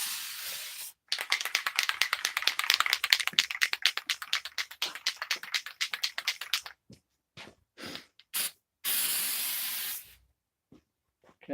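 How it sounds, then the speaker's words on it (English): Thick, heavy paint sprays onto a clawfoot tub in quick bursts, a rapid rattling hiss of sputtering pulses that gives way to short separate blasts and pauses. "It's real thick and heavy, so I have to spray it really fast."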